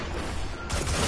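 Gunfire from a hand cannon in a Destiny Crucible match, dense loud blasts that swell partway through, crowding the short stretch without talk.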